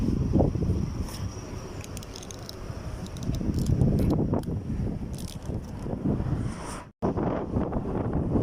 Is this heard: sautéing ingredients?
no